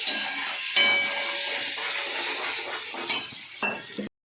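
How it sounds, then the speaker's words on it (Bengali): Tomatoes with turmeric and chili powder cooking down in a pan for pomfret curry, a soft sizzle broken by sharp clinks and scrapes of a metal spatula against the pan. "এবার টমেটো যতক্ষণ না গলে যাচ্ছে পুরোপুরি ততক্ষণ আমি এটাকে কষাবো।"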